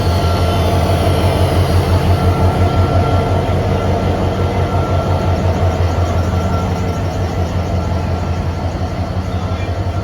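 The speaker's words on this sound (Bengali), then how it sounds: "দীর্ঘক্ষণ অপেক্ষা করার পর অবশেষে আমাদের ট্রেন প্ল্যাটফর্মে চলে এলো।" Cox's Bazar Express train pulling into a station platform, a loud steady rumble of wheels and carriages with faint rhythmic clatter, no voices.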